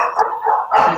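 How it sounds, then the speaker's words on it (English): A dog gives two loud, close barks in quick succession, with a short gap between them and no talking over them. "It sounds a lot like Einstein barking."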